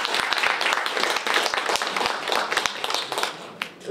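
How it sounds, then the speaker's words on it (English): Audience at a youth leadership forum claps for the speakers, a dense run of hand claps with sharp individual slaps throughout, fairly close and steady before tapering near the end. "can we give a well round of applause for all these wonderful speakers?"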